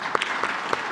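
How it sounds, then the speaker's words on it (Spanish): An audience at a press conference breaks into applause, a dense burst of clapping heard close and loud for the full brief moment. "Un aplauso"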